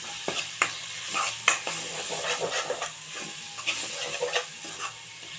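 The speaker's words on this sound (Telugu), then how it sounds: "ఇప్పుడు ఇది కలిపేద్దాం" A spatula scrapes and stirs a pan of spring onion egg curry over a soft sizzle, with repeated sharp knocks against the pan at an uneven rhythm, close and fairly loud, no talking.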